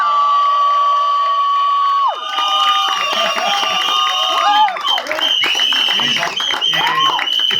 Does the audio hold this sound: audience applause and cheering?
yes